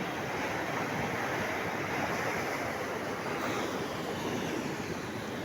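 Ocean waves wash continuously onto a beach, a steady, fairly close roar of surf mixed with wind noise on the microphone, with no voices.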